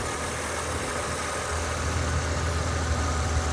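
A 1998 BMW Z3 M Roadster with about 23,000 miles idles steadily and close by, a smooth low engine hum that stays even and unbroken throughout with no voices.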